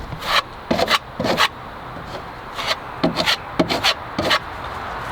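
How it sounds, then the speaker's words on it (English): Sanding excess filler off a repaired surface by hand, a series of sharp rasping strokes in uneven bursts, each scrape short and crisp against quiet room background. "sand this excess away, so it'll look at least halfway decent"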